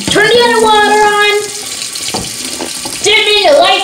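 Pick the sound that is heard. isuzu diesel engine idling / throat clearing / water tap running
water tap running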